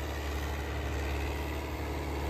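A New Holland 850 tractor of about 85 hp runs with a rotavator attached, its engine giving a steady, loud low rumble that holds even throughout with no change in pace.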